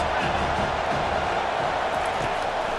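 A football stadium crowd roars for the defense on a third down in an LSU vs Penn State game, a dense, steady wall of distant cheering and noise.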